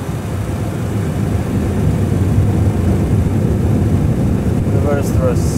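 Airliner reverse thrust on landing, a loud steady roar with heavy rumble filling the cabin throughout, a brief bright chirp near the end.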